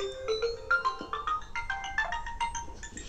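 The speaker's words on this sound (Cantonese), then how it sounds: "咁我用翻個鈴聲啦" Ringtone melody from an HTC One E8 smartphone playing through its dual front speakers, a bright stepping electronic tune of short tonal notes sounding steadily and fairly loud with no talk.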